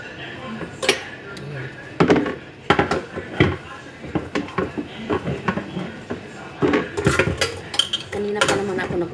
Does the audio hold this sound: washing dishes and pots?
yes